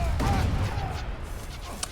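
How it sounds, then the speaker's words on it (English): Grenadiers fire in Age of Empires III, a dense crackle of battlefield shots and rumbling explosions under a continuous busy mix, with a voice talking over it. "I do hear some grenadiers."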